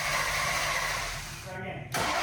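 A Ford Fox body Mustang with a 357 cubic inch Windsor V8 cranks with a steady, loud, churning drone that dips briefly and then resumes, with people talking over it.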